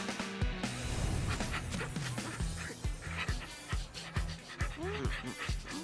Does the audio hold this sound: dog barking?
yes